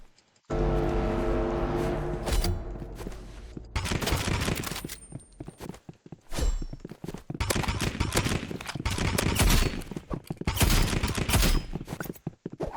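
Rapid bursts of gunfire from a powerful weapon in the shooter game Rivals, several dense volleys separated by brief gaps, close and sharp, with no speech over them.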